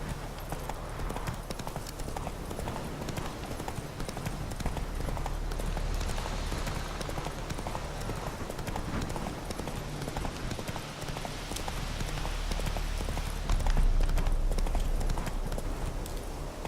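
A horse gallops steadily in The Witcher 3, its rapid clip-clop hoofbeats continuous and fairly close for the whole stretch, with a brief surge near the end.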